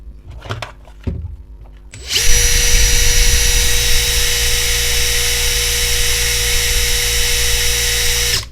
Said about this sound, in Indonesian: Kita coba di speed 4 dulu.